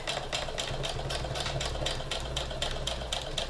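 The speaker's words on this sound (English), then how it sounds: "I'm going to back stitch a bit because again, I want the extra stitching" A sewing machine back stitching a fabric face mask, its needle running in a fast, even rhythmic chatter over a low motor hum, close and steady throughout.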